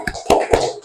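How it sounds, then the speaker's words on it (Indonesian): A classroom of students does the rhythmic 'tepuk semangat' clapping chant, giving three sharp, close hand claps in quick succession, loud and clear. "Coba sekarang tepuk semangat."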